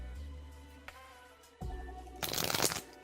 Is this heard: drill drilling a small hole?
no